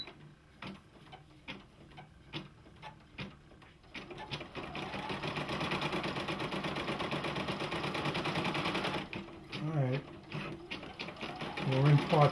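A Brother embroidery machine stitches a design with a steady, fast mechanical whir and rapid ticking, starting lighter and then running continuously at a fairly close, moderate level, with brief voice sounds near the end.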